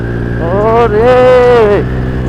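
A motorcycle revs up and accelerates along an empty open road in the late afternoon, its engine tone climbing in a rising harmonic whine for about a second before easing off, loud and close, with steady wind and road rumble beneath.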